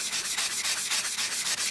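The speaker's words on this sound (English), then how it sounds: "I might hit it with a sanding block as well, just to even that out" A sanding block rubs over a plastic scale model surface in short, even strokes, close and crisp, with a brisk steady rhythm and no talking.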